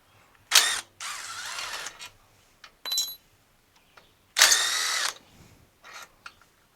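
A power tool, likely an impact wrench or drill, loosening half-inch cylinder head bolts on a Briggs & Stratton 12.5 HP flathead engine from a Murray lawn tractor, in two loud bursts with shorter clicks and whirs between them.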